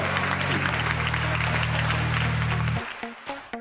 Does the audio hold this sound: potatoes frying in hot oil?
no